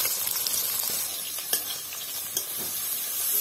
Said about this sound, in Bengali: এবার আমি বেরেস্তা কাটা ভেজে নেব।